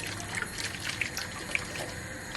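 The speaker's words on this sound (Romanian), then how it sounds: "Mai punem și fish sauce de asta." Fish sauce trickles into an udon noodle sauce in a faint, thin pour with small liquid drips and splashes, quiet and close.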